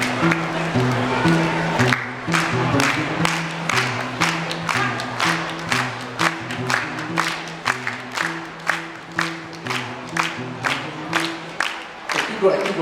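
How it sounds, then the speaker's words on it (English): An audience claps in a steady rhythm to keep the beat of a live yodel medley, the regular loud hand claps running throughout over a sung melody and guitar chords. "Okay, keep going. Perfect. Gotta adjust here. Keep going. Keep going. I don't see all of you guys clapping."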